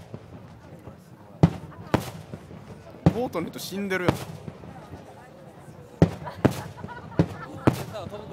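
Low fireworks burst over Lake Suwa at the fireworks festival in a string of sharp booms and crackling pops at irregular intervals, loud and close, while spectators talk in between.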